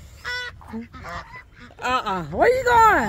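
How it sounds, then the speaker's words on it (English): Geese by the water give several loud honking calls in quick bursts, growing louder and more drawn out toward the end, while a person speaks briefly nearby. "Look at the birds."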